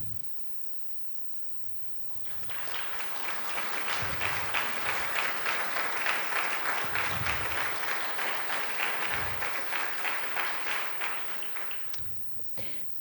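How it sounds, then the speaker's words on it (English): A seated audience at a university induction ceremony for a graduating health-sciences class bursts into a full round of applause. The dense clapping swells quickly, holds steady for about ten seconds, then fades out. "Please stand for a round of applause."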